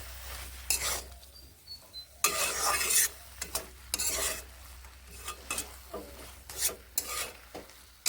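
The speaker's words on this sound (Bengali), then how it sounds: "এবার এখানে আমি দিয়ে নিচ্ছি আদা জিরে ও লঙ্কা বাটা ভালোভাবেই মশলার সঙ্গে এবার এগুলোকে কষিয়ে নেব" Ginger, cumin and chili paste being stirred and sautéed with spices in a pan for a mung dal and spinach dish, with bursts of scraping and sizzling that come and go between quieter stretches.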